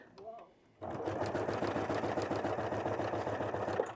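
A sewing machine starts abruptly and runs steadily, stitching through multiple fabric layers with a rapid, even mechanical whir and rhythmic needle clatter, close and loud; a brief voice precedes it.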